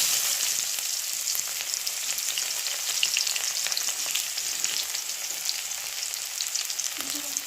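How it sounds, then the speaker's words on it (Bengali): Whole cumin seeds and onion fry in hot oil for a tempering, a bright, even hiss of sizzling close by with fine crackles throughout and a faint low knock near the end, no speech. "ফোড়নে দিয়ে দেব গোটা জিরে,"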